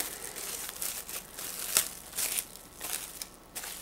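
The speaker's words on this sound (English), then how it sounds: "I'm going to take some clear plastic wrap and wrap that part of my arm." Clear plastic wrap crinkles and rustles softly as it is wound around an arm, close and faint, with irregular crackling pulses and one sharper snap.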